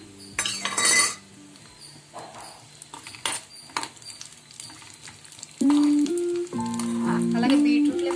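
Cashews frying in a pan for beetroot laddu, with a loud close sizzle and spatter broken by metal spoon clinks and scraping. Steady tonal, music-like notes come in over the second half.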